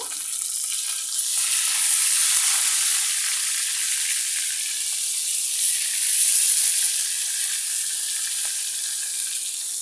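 Fish fries in oil in a pan over medium heat after being flipped to its other side, a loud, continuous crackling sizzle that holds steady with no voices.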